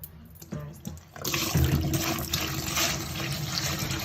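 Water pours and splashes steadily from a container of soaking braiding hair, a continuous gushing wash that starts after a quiet moment and keeps running close by.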